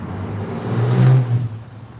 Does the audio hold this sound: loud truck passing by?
yes